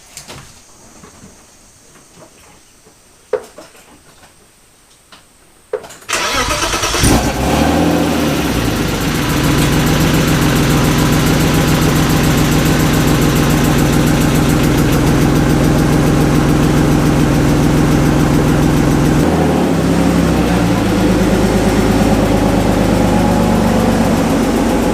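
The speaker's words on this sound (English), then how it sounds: "And then I'm gonna lower it down and pump the clutch. First startup." A car engine cranks and fires for its first startup after a clutch slave cylinder replacement, then settles into a loud, steady, close idle that runs on for many seconds after some quiet shuffling noises.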